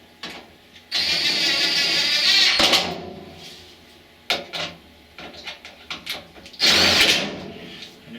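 A handheld power driver backs screws out of a Kenmore Elite dryer in two close, loud whirring bursts, with clattering, clicks and handling noises between them.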